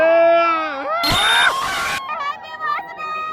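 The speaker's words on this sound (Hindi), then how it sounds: "तो भाई ये देखो बहुत भीड़ है भाई" A dense crowd on Mall Road in Manali shouts and cheers while people dance, with a burst of loud screaming and babble breaking in under nearby talk.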